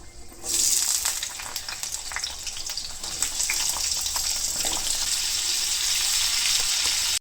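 Potatoes and pointed gourd frying in hot oil with fenugreek, a steady close sizzle with crackle that runs throughout without any talk.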